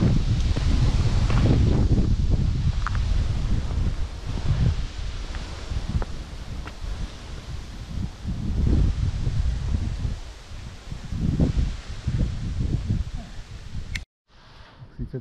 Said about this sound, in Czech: docela vítr dneska.